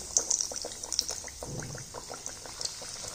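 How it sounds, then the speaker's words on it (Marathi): Poha mixture frying in hot oil over medium heat, a steady faint sizzle with soft crackles and bubbling, close and alone. "आणि मध्यम गॅसवरती चांगलं असं लालसर होईपर्यंत आपण तळून घेणार आहोत"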